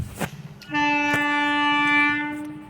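A passing train at a level crossing sounds one long, loud, steady horn blast lasting about two seconds, preceded by a couple of sharp knocks and low background rumble, with no talking.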